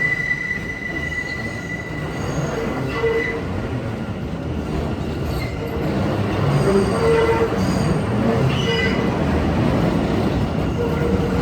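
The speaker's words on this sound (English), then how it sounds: "That's an M train rolling in" An M subway train rumbles into a station, a steady loud roar with metallic wheel squeals and clatter growing slightly louder toward the end, no talking.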